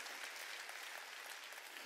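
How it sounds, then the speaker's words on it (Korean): A church congregation at a Wednesday worship service breaks into brief, even applause that stays steady for about two seconds, heard at a distance. "하나님을 움직인 걸 믿으면 박수."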